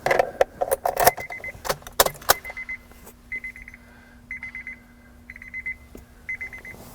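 Warning chime from a 2006 Honda Odyssey during power steering rack work: a repeated electronic beep pattern in regular bursts, with metallic clinks and clatter of tools or keys at the start and a faint steady hum underneath.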